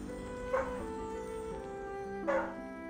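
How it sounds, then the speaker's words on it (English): Dogs yip and bark in a couple of short outbursts a couple of seconds apart, heard faintly under steady game music. "If you guys can hear the sound of my dogs barking,"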